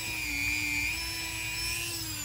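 A drill spinning a diamond disc to cut a ceramic piece for a kintsugi handle repair, giving a steady, high-pitched whine that holds constant throughout, close up with no speech.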